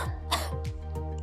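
A few soft, close coughs and throat sounds from a little bear curled up in bed, heard alone in a quiet room with low background hum.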